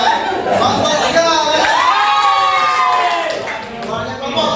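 Classroom group of students cheering and shouting with scattered clapping, a loud, lively crowd of young voices that swells and fades, with a teacher's voice speaking over it.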